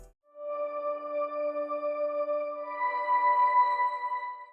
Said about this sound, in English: The pad preset was from Contact hybrid keys and sounds like this.